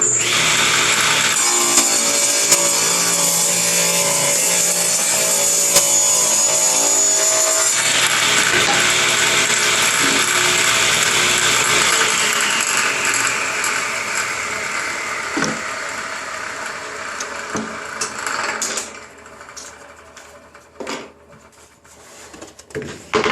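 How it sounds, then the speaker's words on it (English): A power saw runs continuously as it cuts the edge of a wooden board, a loud whining drone that winds down toward the end, followed by a few knocks and clatters. "I'm going to reverse the cut and cut the other edge."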